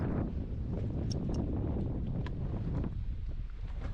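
Strong coastal wind buffets the microphone while fishing at Grand Isle, Louisiana, a constant loud low roar with gusty rumbling throughout and no voices.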